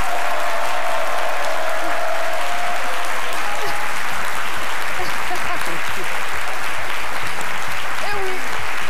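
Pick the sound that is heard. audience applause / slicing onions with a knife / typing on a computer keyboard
audience applause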